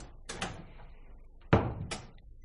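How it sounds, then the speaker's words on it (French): A door is pulled shut indoors: a couple of quick handle or latch clicks, then a sharp closing thud followed by a lighter click, heard close and alone. "tira la porte derrière lui"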